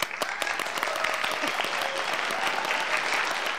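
Studio audience clapping on an Indonesian talk show, a brisk burst of many hands with a few sharp individual claps standing out, lasting a few seconds, with faint voices mixed underneath.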